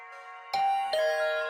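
A two-tone doorbell chime from The Hundred Line video game, rung twice in quick succession over a steady background music bed, clear and close.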